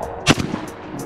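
A single sharp report from a Mossberg 940 Pro shotgun, one close, loud blast followed by a brief ringing tail and a few faint clicks.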